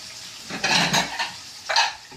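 Small bowls pulled out and set down in a kitchen while cooking fried wild chukar, giving a few light ceramic clinks and knocks in two short bursts, close and fairly quiet, with no talking.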